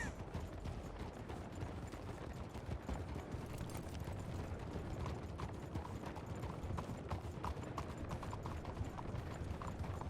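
Horses' hooves clip-clop steadily and continuously near the listener on a hitching ground, a dense run of overlapping hoofbeats with no talking.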